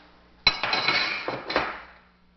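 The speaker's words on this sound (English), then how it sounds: "You can push that in and remove this receiver cover. That comes right off. And you can push this in and remove the recoil spring." AK-47 receiver cover and recoil spring being removed during a field strip, a sharp metallic clack followed by a few lighter rattling clinks of steel parts, close and alone.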